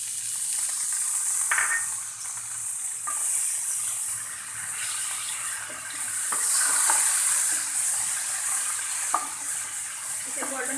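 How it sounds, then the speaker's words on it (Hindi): Onions frying in oil in a pan already used to fry eggplant: a steady, bright sizzle throughout, with occasional soft scrapes and clinks of stirring. "इसे गोल्डन ब्राउन होने तक फ्राई करेंगे।"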